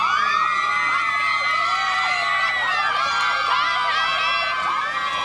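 A dense, continuous roar of cheering and shouting from cheerleaders and the home crowd at a WPIAL 3A high school football game between West Mifflin and Gateway, with many overlapping high voices whooping loudly throughout.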